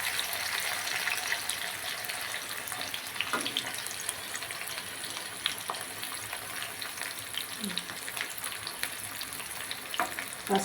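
Green chillies and onions fry in a pan for a curry, a loud, dense sizzle running throughout with occasional stirring scrapes and faint watery sounds, no talking.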